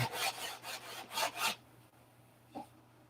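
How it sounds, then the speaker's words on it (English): Sandpaper rubs back and forth across a wood block in five quick, close scratchy strokes, then stops, leaving near silence broken by one faint short scrape. "Sandpaper is your friend."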